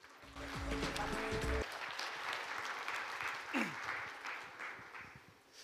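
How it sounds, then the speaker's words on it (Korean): An audience at a 2018 future strategy forum applauds a KT executive coming on stage, with a brief musical sting at the start, then a steady wash of clapping that slowly thins. "큰 박수로 부탁드리겠습니다."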